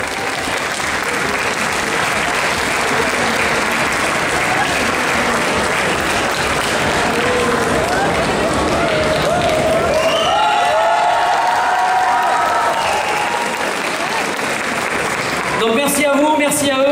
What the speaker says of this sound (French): On peut l'applaudir aussi